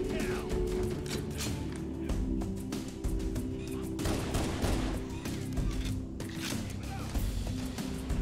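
Rapid, dense gunfire from marines shooting in the video game Halo: Combat Evolved Anniversary, with bursts overlapping continuously over a steady low hum and thuds throughout.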